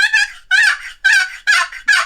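Five loud, close yelps from a turkey call worked to imitate a hunter, evenly spaced in a quick, regular rhythm with short gaps, alone with no talking.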